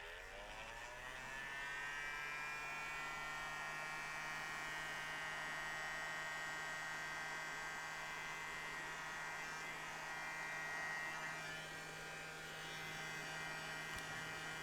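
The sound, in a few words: heat gun blowing hot air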